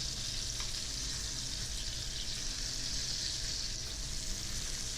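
Chicken rollatini browns in a frying pan, a continuous close sizzle of hot fat holding an even, moderate level throughout with no voices.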